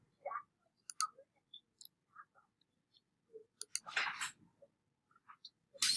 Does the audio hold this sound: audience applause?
no